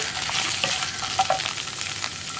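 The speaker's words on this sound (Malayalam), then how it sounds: "കോളിഫ്ലവർ ആദ്യം ഒന്ന് വഴറ്റിയെടുക്കണം നന്നായിട്ട്." Cauliflower is sautéed and stirred in a hot pan, giving a close, steady sizzle with crackling and a few scraping stir strokes, no voices.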